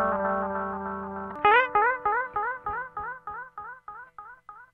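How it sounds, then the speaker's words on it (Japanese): Electric guitar through an Ibanez ADMINI analog delay: a sustained chord cuts off, then a picked phrase echoes in about a dozen evenly spaced repeats that grow fainter and slightly warped in pitch as they fade. "返ってくる音がね、ちょっと音質が劣化していって、音程が狂ってくるようなアナログならではの印象があります"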